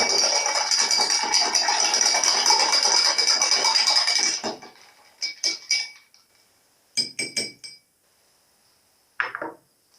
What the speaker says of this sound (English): So let's give it a stir.